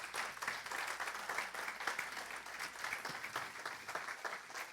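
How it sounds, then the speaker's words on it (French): Audience applause after a talk on fraud techniques, a dense, steady wash of many hands clapping at moderate distance, filling the whole stretch without speech. "on peut l'applaudir chaleureusement"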